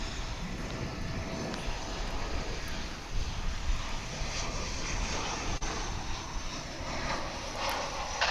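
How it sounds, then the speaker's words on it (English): An American Airlines Airbus A319 airliner arriving to land at Dallas/Fort Worth International Airport, heard as a steady, broad jet roar that stays loud and constant throughout with no voices. "another A319, American Airlines."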